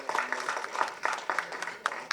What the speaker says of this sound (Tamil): முதல்ல அவருக்கு ஒரு பெரிய கைத்தட்டல் கொடுத்துருவோம்.